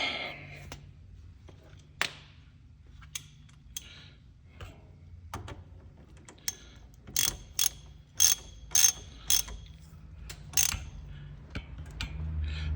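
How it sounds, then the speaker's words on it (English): A torque wrench ratchets on an Allen-head drain plug of a 2024 Kawasaki Mule Pro FXT 1000 during a transmission fluid change, giving sparse clicks that turn into a quick run of sharp, close metallic ratchet ticks. "you're going to want to torque this with your Allen head and a torque wrench to about 15 pounds"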